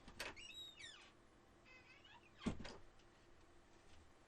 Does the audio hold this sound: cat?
yes